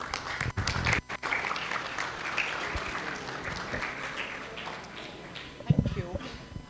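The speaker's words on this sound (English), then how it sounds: "Please welcome her with a warm round of applause." University orientation audience giving a warm round of applause for an arriving speaker, sustained crowd clapping with a few sharp close claps, and speech near the end.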